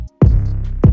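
A long, sustained 808 bass note from an FL Studio trap beat rings out loud and full after a brief gap, then a second hit starts at the end; no voices.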